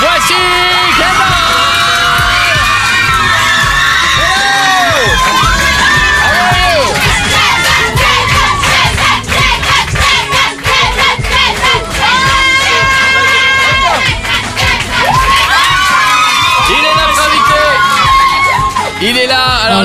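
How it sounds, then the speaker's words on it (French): A studio audience of girls screams and cheers at a French radio show as a guest arrives, a loud, continuous wall of shrieks and whoops lasting the whole stretch without letup. "C'est bruyant, faites du bruit, voici Kendall."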